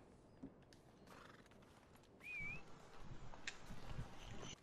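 In a video game, a horse gives a brief whinny and its hooves clop in a loose rhythm over quiet ambient background noise, with no speech.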